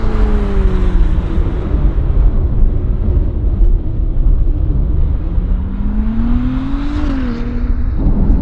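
A Ferrari 296 supercar drives on the road, a loud close engine drone under heavy wind and road rumble, its pitch sliding down, then rising as it accelerates.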